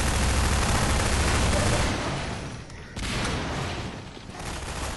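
Dense, continuous gunfire from a Half-Life 2 firefight, loud and near with bursts and rattling volleys running through the whole stretch, briefly dipping before resuming.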